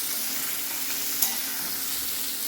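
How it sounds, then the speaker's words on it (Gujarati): Stuffed gunda sits in a pan over a low flame and is gently mixed with a spatula: an even, hissing sizzle throughout with a single light tap midway. "અને એને આવા તવેથાથી એકદમ હલકા હાથે આપણે મિક્સ કરવાના છે."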